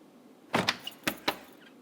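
An apartment door is unlatched and opened in a household sitcom scene: a few sharp, close wooden clunks and latch clicks in quick succession, then quiet, with no talk.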